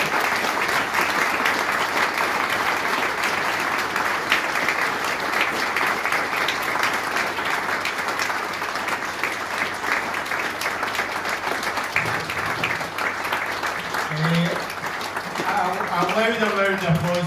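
Sustained applause from a hotel ballroom audience at a charity ball fills the room with dense, steady clapping, and a voice speaks briefly over it near the end.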